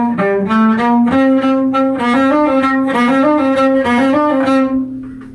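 Cello playing measures 86 through 89 of Bréval's Sonata in C, a quick bird-call-like figure of repeated, flickering notes over a steady pitch, bowed close and continuous with no talking.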